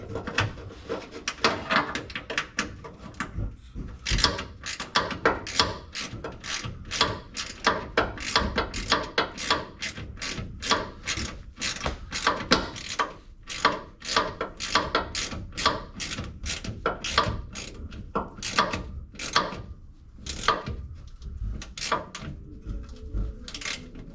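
A ratchet tightens bolts on an external transmission filter kit, with rapid, sharp clicking bursts repeating steadily in quick strokes throughout, fairly close and loud.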